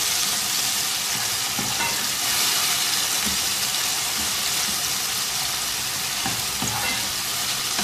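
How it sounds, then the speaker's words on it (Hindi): Softened tomatoes mashed with a spoon in a frying pan while cooking a masala aloo dish, with a steady loud sizzle and occasional soft scraping and stirring sounds throughout. "चम्मच के साथ ही इनको थोड़ा सा मसल लेंगे।"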